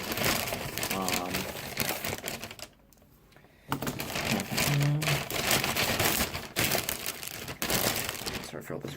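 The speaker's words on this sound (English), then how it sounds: "Sorry for all this rustling." Shopping haul packaging from a Kinokuniya stationery trip being rustled and crumpled, loud crinkly crackling bursts with a brief quiet pause midway and a voice speaking briefly.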